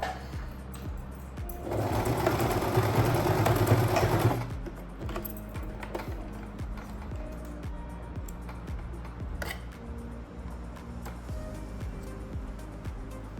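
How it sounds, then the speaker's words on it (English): A sewing machine back-stitching over a dress seam allowance to secure elastic: a loud burst of rapid stitching, then slower, rhythmic needle strokes with clicks, close up, no talking. "I'm just going to do a couple of back stitches over the seam allowance here just to keep that elastic really nice and strong in place"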